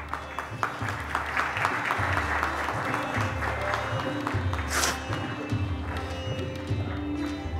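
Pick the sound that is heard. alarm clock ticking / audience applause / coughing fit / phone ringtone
audience applause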